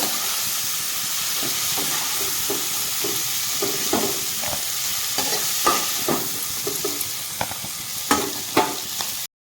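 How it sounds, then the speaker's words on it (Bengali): Small shrimp frying in oil in a pan while being stirred, a continuous close sizzle with repeated soft scraping and clinking strokes through the whole stretch. "চিংড়ি মাছগুলো আমি উল্টে দিয়েছি তো দেখো ভাজা হয়ে গেছে"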